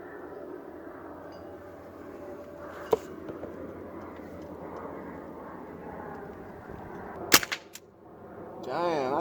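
A Sig Sauer MPX .177 CO2 semi-auto air rifle fires outdoors with a sharp, sudden crack. It stands out against steady background rumble, and another brief pop is heard earlier.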